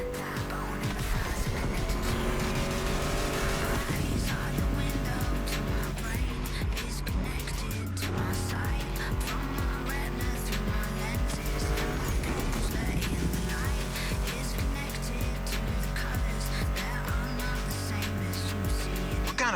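A Ford Mustang GT muscle car in The Crew Motorfest racing game, engine revving and droning steadily with tire squeals, shifting pitch, under loud music-like layered game audio throughout.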